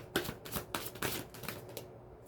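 Tarot cards riffled and shuffled close up with a quick run of soft papery flicks and taps, fairly quiet, a couple of cards slipping loose partway through.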